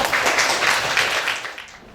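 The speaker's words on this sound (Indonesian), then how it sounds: "Tepuk tangan buat Raffi." Schoolchildren in a classroom give a short burst of clapping for a classmate, a dense patter that fades out within two seconds.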